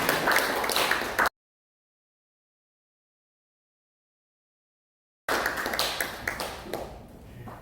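Congregation clapping during a Sunday church worship service, a steady dense patter of many hands that cuts out into silence and then resumes, close and moderately loud.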